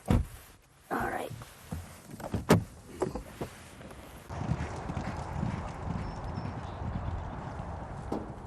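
Racehorses' hooves clip-clopping during Breeders' Cup morning workouts, a run of irregular clopping steps at first, then a steady, fairly loud bed of hoof and ambient noise, with faint voices mixed in.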